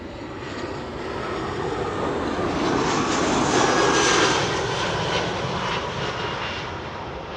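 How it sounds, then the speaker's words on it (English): An Airbus A380 landing at Amsterdam Schiphol Airport gives a loud, steady jet engine roar that swells to a peak near the middle and then eases slightly, with no voices. "The A380 is coming this way."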